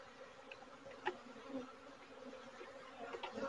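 Agitated honeybees buzz at an opened hive during an inspection, a faint, steady, high droning swarm with one brief closer pass.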